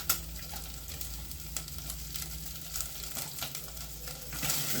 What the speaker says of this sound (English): Stir in the onion until they're translucent.